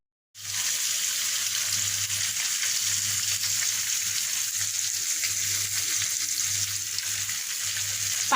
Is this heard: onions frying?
yes